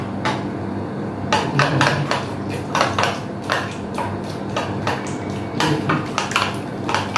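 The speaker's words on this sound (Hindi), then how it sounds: "इतना आपको फेंटना है, जितना फेंट सकते इतना फेंटना इसको" A spoon beats an onion, tomato and chili mixture in a bowl, giving repeated close clinks and clatters against the bowl in an uneven, quick rhythm, with no talking over it.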